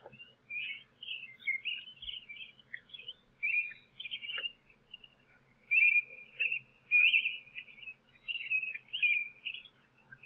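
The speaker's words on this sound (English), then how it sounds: "All the birds are chirping like it's 6 a.m." Birds chirp and whistle at night in foggy weather, a series of bright, broken phrases in short bursts, moderately near, against an otherwise quiet background with a faint low hum.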